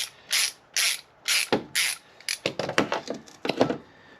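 Ratchet wrench clicking on a Honda Accord brake part, four slow even bursts of clicks followed by quicker, shorter ratcheting strokes as the part loosens, close and clear.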